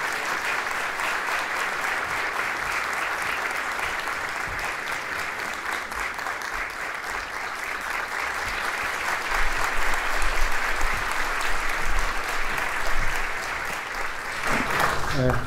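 Steady, dense audience applause welcomes a conductor onto the stage at a choir concert in a theatre, swelling slightly midway and continuing without a break.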